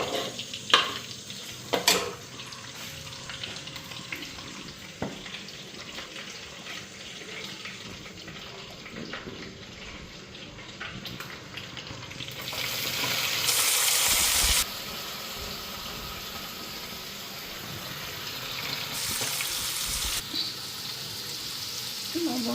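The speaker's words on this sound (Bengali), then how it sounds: "ভালো করে এখন লাল করে ভাজিয়ে আনি এটা" Onion fries in plenty of oil in a wok with turmeric added, a faint continuous sizzle broken by a few knocks of stirring, with louder hissing bursts later on.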